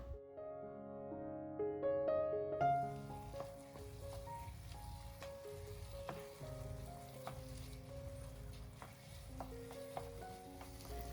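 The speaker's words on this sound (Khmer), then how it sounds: "ត្រូវឆាអង្ករដំណើបនៅលើភ្លើងមធ្យមរហូតដល់ទឹកខ្ទិះដូងនឹងខាស់អស់" Sticky rice being stir-fried in coconut milk over medium heat, a steady sizzle with scraping stir strokes running throughout at moderate level, no voices.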